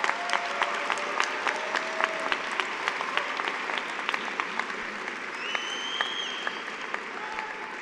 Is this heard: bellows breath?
no